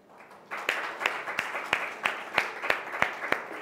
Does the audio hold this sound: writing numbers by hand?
no